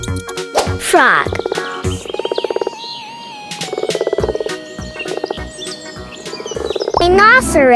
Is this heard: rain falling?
no